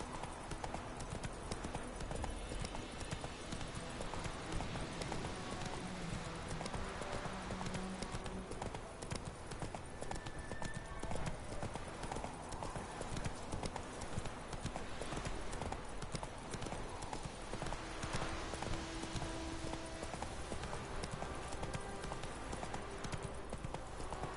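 Horse hooves clip-clop steadily and fairly close for a long stretch, the rhythmic clatter continuous, mixed with broad outdoor noise and with no clear speech.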